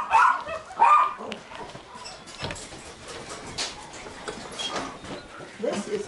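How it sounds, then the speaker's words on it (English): Puppies at a USDA-licensed breeding kennel in Boelus, Nebraska bark in sharp bursts near the start, then whimper and yip intermittently under people talking nearby. "I have a huge number of puppies now."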